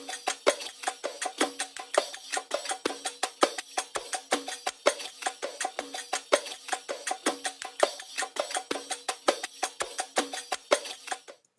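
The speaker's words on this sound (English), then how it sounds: "The next thing I found was this little drum loop that I really enjoyed" A short electronic drum loop drawn from a production library, with the low end and some low mids cut away, repeats steadily with crisp, bright hits in a tight rhythm, played alone and fairly quiet.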